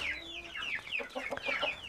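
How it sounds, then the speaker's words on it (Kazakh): A newly brought rooster on a Kazakh backyard poultry yard makes a short run of clucking, crowing-like calls, fairly faint and close, with no voices. "Әтештің дауысын естіп тұрған боласыздар"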